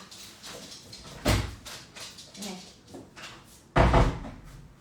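A door is opened to let a dog inside, giving two sharp knocks or bangs about two and a half seconds apart over quiet room sound, with fainter handling noises between them.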